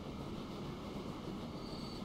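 Trains rumbling along the rails in Transport Fever 2, a steady low rolling drone with faint wheel noise, no voices.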